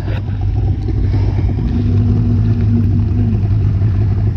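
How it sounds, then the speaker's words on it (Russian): A Vydra river boat on the Maly Abakan river in Khakassia runs its engine loud and close, a steady droning roar with a sustained whine. "Вот так ездит лодка. Выдра."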